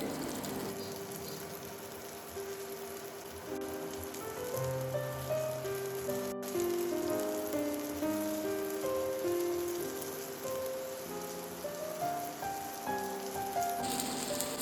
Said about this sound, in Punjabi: ਤਾਂ 2 ਮਿੰਟ ਆਪਾਂ ਇਹਨਾਂ ਨੂੰ ਫਰਾਈ ਹੋਣ ਦਿੰਨੇ ਆ